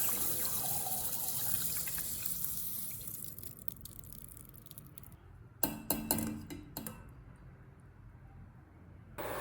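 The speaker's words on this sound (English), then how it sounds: "Once the black sesame is rinsed clean, I let it drain slowly, just like she did, allowing the excess water to fall away." Water trickles and drains away from rinsed black sesame seeds in a strainer, a quiet, close run of dribbling that fades, then a few brief splashy drips near the end.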